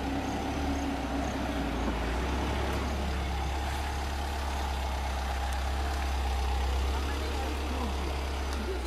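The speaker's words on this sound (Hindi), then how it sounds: "धीरे धीरे गाड़ी मेरी जा रही है बैक में" A car idles and rolls slowly in reverse, its engine a steady low hum that runs throughout, close by, with someone talking over it.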